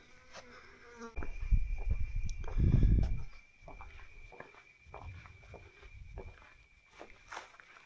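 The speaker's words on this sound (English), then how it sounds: "And the absolute jungle sounds around me." Jungle insects buzz and drone around the El Tajín ruins in Mexico as a steady close hum, with faint footsteps and soft rustling mixed in.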